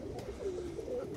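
Soft pigeon cooing, low throaty murmurs repeating through a faint background hum, fairly close.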